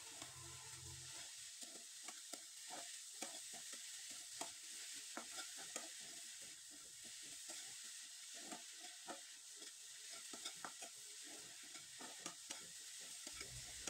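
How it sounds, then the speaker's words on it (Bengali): Grated coconut and jaggery filling is stirred in a pan, giving faint, rhythmic scraping strokes over a soft, steady background hiss. "নারকেল কোড়ানোটা দিয়ে খুব ভালোভাবে নেড়ে চেড়ে একবারে শুকনো শুকনো করে তৈরি করে নেব"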